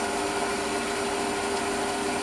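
Power drill boring a 3.8 mm hole through a part for a Webster model engine, a steady, loud whirring hum that holds constant throughout without pauses.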